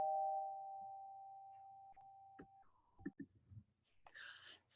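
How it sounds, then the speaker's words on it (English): A faint electronic doorbell tone rings steadily for a couple of seconds, then a few quiet knocks and rustles follow before soft noise at the end. "You've probably heard my doorbell."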